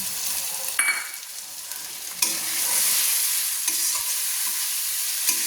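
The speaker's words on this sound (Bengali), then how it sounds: "দিয়ে ভালো করে আবার আমি নেড়ে নিচ্ছি" Meat curry with freshly added ground cumin paste being stirred in a hot pan. A strong, even sizzle runs throughout, cut by occasional scrapes and knocks of the spoon, and no one speaks.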